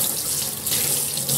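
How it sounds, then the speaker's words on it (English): Tap water runs steadily over cured salmon being rinsed of brown sugar and salt in a sink, a loud, close, continuous splashing stream. "Rinse the salmon off. Get off all the brown sugar and salt."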